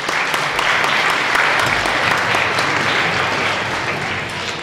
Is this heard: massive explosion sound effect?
no